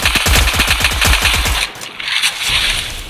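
Rapid automatic gunfire from the Free Fire video game, a dense burst of loud shots for about a second and a half, then quieter scattered game effects.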